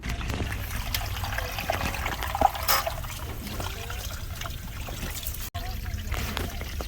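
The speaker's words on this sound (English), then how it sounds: "But all that water is gonna start going down." Melted water draining out of a frosted-up frozen food display case, a soft continuous trickle and gurgle running down the drain, fairly quiet and steady.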